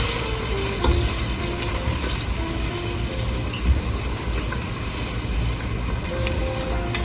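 Coriander and fennel spices roast in a pan for a bhindi masala, making a dense low crackle and sizzle with occasional stirring knocks, steady and close.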